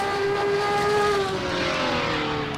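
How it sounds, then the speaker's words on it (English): A race car engine runs steadily during a fun race, a loud continuous drone with gliding harmonic tones as revs shift, heard up close. "Get a little bit closer to this engine so we can hear how good it sounds."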